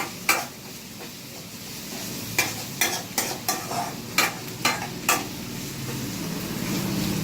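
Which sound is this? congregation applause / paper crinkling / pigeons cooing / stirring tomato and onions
stirring tomato and onions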